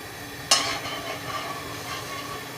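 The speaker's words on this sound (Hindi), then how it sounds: "आप ऑयल डाल लें।" Oil poured into a kadai for chicken karahi, opening with a sudden splash that settles into a soft, steady hiss close by.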